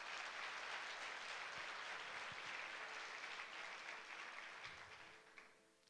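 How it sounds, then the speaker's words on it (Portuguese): Church congregation applauding during a Sunday worship service, a steady wash of clapping that holds evenly for several seconds and thins out at the very end, heard from a distance at low level. "Dá um aplauso ao Senhor Jesus."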